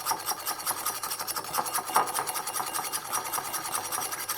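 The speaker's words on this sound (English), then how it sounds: "with a whisk, you need to stir this until it emulsifies." Whisk stirring salad dressing in a bowl until it emulsifies, giving a fast, steady, rhythmic scraping and rubbing that carries on throughout, close and moderately loud with no voices.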